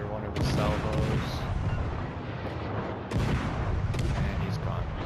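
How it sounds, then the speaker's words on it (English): Heavy battleship gun salvos roar in World of Warships: Legends, a dense continuous rumble of booming broadside blasts with a fresh loud volley near the middle, layered over constant game noise. "Got another one of his salvos."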